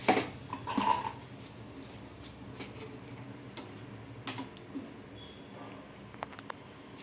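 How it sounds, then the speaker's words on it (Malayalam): Mustard seeds in hot coconut oil crackle with faint, sparse, irregular pops and ticks over a quiet background hiss. "കടുകൊന്ന് പൊട്ടി വരട്ടെ"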